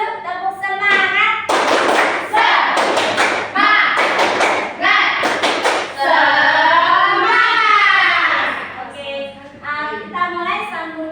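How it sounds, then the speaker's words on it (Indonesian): A classroom group performs a rhythmic clapping chant, bursts of loud sharp claps in patterned runs alternating with children's chanted voices close by. "Tepuk semangat dulu, tepuk semangat."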